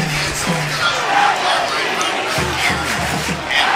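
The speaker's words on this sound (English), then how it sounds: "the crowd that was loud at the beginning has just gotten more boisterous" Boisterous crowd noise at a South Lakes vs. Westfield high school football game, a loud, continuous roar of cheering fans just before an extra-point kick.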